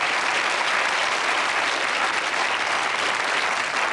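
Studio audience of a TV quiz show applauding actress Gabrielle Drake, a dense, loud, sustained wash of clapping from many hands with no talking.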